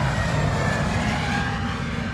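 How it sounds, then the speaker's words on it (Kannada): An airplane taking off, a steady dense engine roar with strong low rumble, loud and continuous without any talk. "ಫ್ಲೈಟ್ ಟೇಕ್ ಆಫ್ ಆಯ್ತು"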